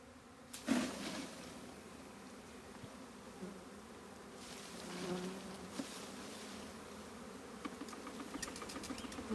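A honeybee swarm being shaken into a cardboard box, a soft continuous buzzing hum with a few thumps and rustles, fairly quiet and distant with no talking.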